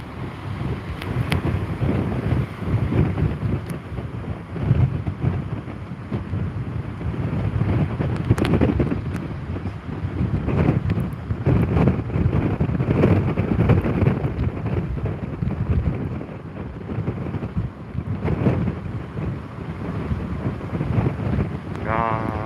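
Typhoon Bavi's wind on Jeju batters the microphone in continuous, loud, gusty rumbles, with a low roar of surf underneath and a voice now and then.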